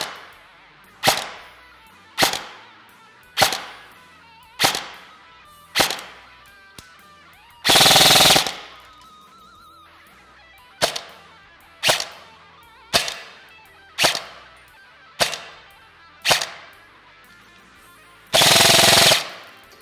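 A Specna Arms EDGE airsoft replica fires 0.2 g BBs through a chronograph on an 11.1 V LiPo battery. Sharp single shots crack at regular intervals, and two short full-auto bursts of about a second each break up the series.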